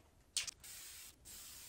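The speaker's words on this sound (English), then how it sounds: "Painting the light blue on our model will use up a full 2 cans of the Tamiya spray lacquer." Tamiya spray lacquer being sprayed onto a model rocket, a short sharp burst followed by a steady close hiss from the can, then a brief pause and another continuous spray.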